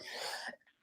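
A single sharp sneeze from a person during a marketing podcast conversation, one loud breathy burst that cuts off abruptly into quiet.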